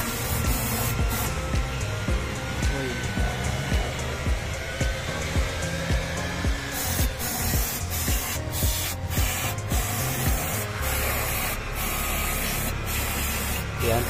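Spray cleaner hisses out onto the transmission solenoids of a Suzuki DA64V automatic. The loud, continuous jet of hiss runs close-up throughout, with brief breaks and re-bursts in the later part.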